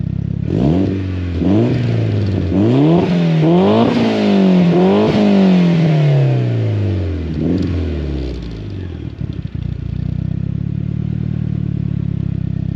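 Warm Mitsubishi Evo 8 with an upgraded exhaust, revved hard several times in quick rising bursts, then settling into a long falling rev and a deep, steady burbling idle, loud and close.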